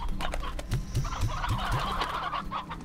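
Chickens in the video game Slime Rancher cluck in a quick series of short, low calls over busy background chatter and game-like sounds.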